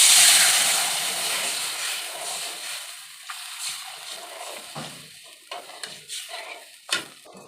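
Water poured into a hot pan of Gobindobhog rice with cumin, fenugreek and dried chillies gives a loud steamy hiss and sizzle that slowly dies down, followed by softer stirring scrapes and small clinks.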